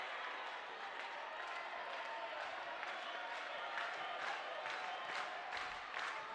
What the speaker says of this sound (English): Crowd into it here in Annapolis